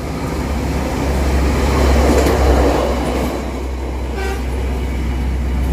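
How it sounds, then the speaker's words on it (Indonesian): A measuring train passes Cicalengka station on the railway, a loud rolling roar swelling and fading over several seconds with a faint horn toot near the end. "kereta ukur sudah melintas stasiun Cicalengka"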